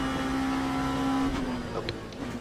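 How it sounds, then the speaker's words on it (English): A hypercar in the Le Mans Ultimate racing game sweeps past with a steady high engine tone that drops in pitch as it goes by, fading under other race car noise. "Got a hypercar coming up behind you as well."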